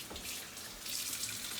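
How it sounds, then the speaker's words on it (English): A kitchen tap runs in a steady, close splashing stream while hands are washed under it before cooking, with no voices. "First step is to wash your hands."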